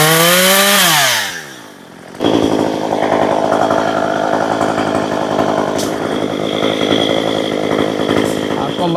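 Chainsaw cutting a tree branch, a loud close engine snarl that revs up after a short idle dip and then holds a steady cutting roar.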